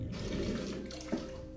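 Water pouring from an open tap in a comfort room, a steady rushing splash with a brief gurgle near the end, close and continuous, no talking.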